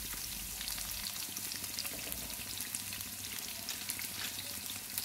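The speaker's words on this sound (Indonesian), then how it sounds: "Apabila minyak masak sudah panas, masukkan hirisan bawang besar." Sliced onions fry in hot oil for a stir-fried green chilli salted fish dish, making a close, steady sizzle with light crackles and faint stirring scrapes, and no one speaking.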